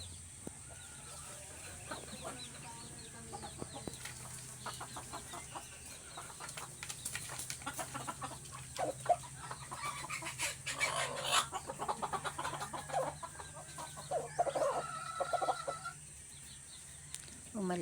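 Plump pet chickens cluck and murmur in a farmyard, with soft scattered clucks building into busier bursts of calls, some near and some farther off, over a faint steady background hum.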